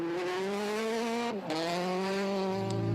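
A rally car runs a loose gravel special stage of Rally Estonia, an ERC event, first on the road; its engine holds a steady high note, then dips sharply as it shifts or lifts off before pulling hard again, with some tyre noise near the end.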